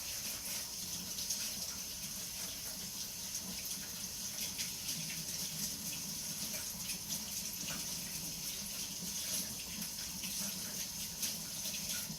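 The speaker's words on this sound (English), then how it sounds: "I'm going to rinse off my hands before." Water from a tap runs steadily into a sink as hands are rinsed. The splashing hiss is continuous and fairly soft, with no voices.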